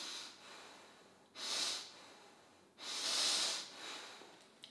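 Two slow, breathy nasal inhalations, each a loud airy rush, separated by quieter exhalations, close to the ear with no talk, during a fascial release breathing exercise.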